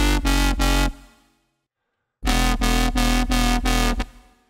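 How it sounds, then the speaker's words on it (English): Layered jump up drum and bass synth bass with five stacked layers, driven by an LFO in FL Studio; loud, rhythmically chopped stabs in two bursts separated by a brief silence. "we have this seventh bass, which is actually just a fifth layer on top of it"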